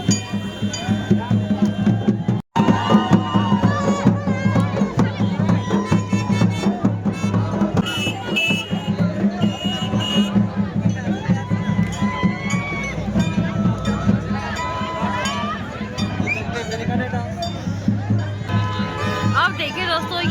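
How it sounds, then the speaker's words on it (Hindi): Dense crowd hubbub around a temple at the Janda Devi fair in Uttarakhand, steady overlapping chatter and shouts with some high ringing tones, close and continuous, with one brief gap early on. "मंदिर में भी देखो कितनी भीड़ हो गई है।"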